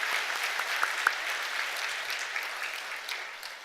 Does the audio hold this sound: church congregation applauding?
yes